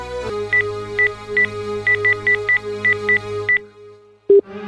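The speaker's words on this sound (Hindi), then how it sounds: "मिला रहा हूँ।" A series of rapid touch-tone beeps punched in over a constant dial tone, a dozen or so presses in an uneven rhythm, then a short tone.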